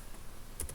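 A few quick computer keyboard keystrokes, crisp clicks close by with a faint background hum and no voices.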